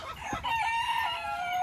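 Frizzle and smooth-feathered chickens and roosters: a rooster crows loudly close by, with clucking and a brief sharp call just before, no talk.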